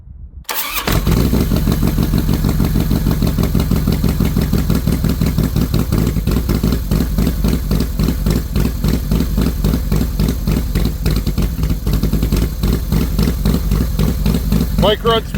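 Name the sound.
Twin Cam 98 motorcycle engine starting and idling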